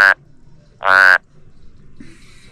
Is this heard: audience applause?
no